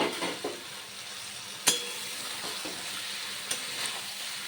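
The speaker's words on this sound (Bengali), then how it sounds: "এবার ভালো করে মশলার সঙ্গে আলু আর পটল কষিয়ে নেব 3-4 মিনিট পর্যন্ত।" Fried potatoes and pointed gourd sautéed with spices in a pan for prawn potol curry, a steady close sizzle with a few sharp clinks of a spatula against the pan, no talking.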